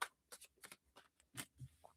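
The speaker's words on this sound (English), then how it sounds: "Let me shuffle one more time here." A deck of cards being shuffled during a live reading, a series of quick, crisp riffling bursts and soft taps in an irregular rhythm, close and fairly quiet, with no speech over it.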